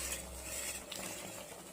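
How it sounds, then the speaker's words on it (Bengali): A spatula stirs thick mango puree simmering in a pan, a continuous soft bubbling and scraping hiss with gentle clatters, fairly close and steady throughout. "এই সময় একটু দূরে দাঁড়িয়ে এইভাবে খুন্তিতে নাড়াচাড়া করতে হবে"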